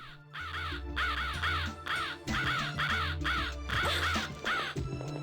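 Crows in The Ring: Terror's Realm video game caw in harsh, rapid bursts, repeating again and again over a low, droning game backdrop.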